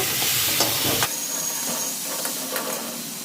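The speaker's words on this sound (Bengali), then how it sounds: "মশলাটা মিশিয়ে আমি একটু নেড়ে দেব।" A spice paste is stirred into prawns frying in a pan, sending up a loud, steady sizzle and hiss with light scraping, close up and unbroken by talk.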